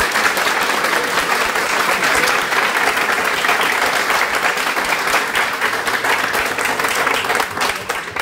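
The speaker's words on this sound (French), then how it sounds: "Merci, je vous prie de les acclamer." Sustained applause from an audience at an awards ceremony, dense steady clapping that fills the whole stretch at an even, loud level without pause.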